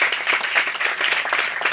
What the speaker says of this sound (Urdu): آئیں یسوع کے لیے زوردار تالیاں بجائیں